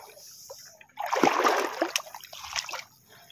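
Water splashes and churns as someone wades across a deep river on an island, a close burst of sloshing steps lasting about two seconds over quiet flowing water.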